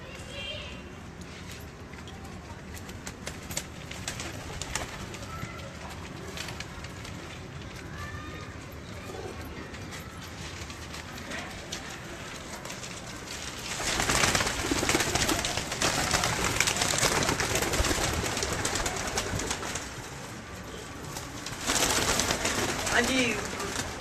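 Breeder pigeons kept in a Lahore loft coo softly and repeatedly in the background, joined by fluttering and scuffling, while people talk over them throughout.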